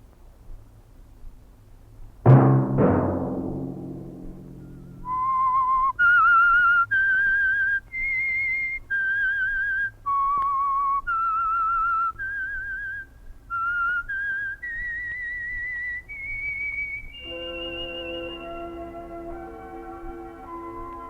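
A loud thud at the start, then a clear melodic whistled tune with sustained notes stepping up and down, ending on a held fuller chord.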